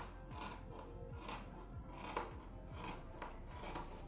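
Scissors snip steadily through fabric along a curve, a quiet run of rhythmic crisp cuts and rasping blade closes, close up with no talking.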